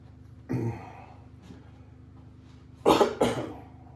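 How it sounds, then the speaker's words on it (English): A person with a recovering voice gives one cough, then a pause, then a quick double cough, all close and fairly loud over a faint low hum. "I just coughed."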